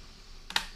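A RAM module seats into the memory slot of an Acer Aspire 11 E-111 laptop: one short, sharp plastic click, preceded by a faint softer tick, close up in an otherwise quiet room.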